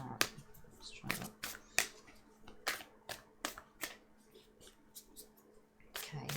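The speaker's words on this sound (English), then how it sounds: "Maybe I should shuffle a bit more over the mat." Tarot cards shuffled over a mat, giving a quiet series of sharp, separate riffling snaps and taps spaced roughly every half second, close and alone with no talk.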